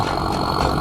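Tractor engine levelling a farm field, a close steady mechanical drone with a low throbbing vibration, heard alone for under a second.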